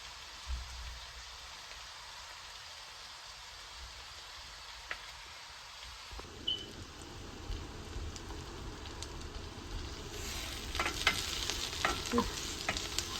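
Onions cooking in a pan, giving a soft, steady sizzle and frying crackle close by, with occasional stirring scrapes and brighter crackles toward the end.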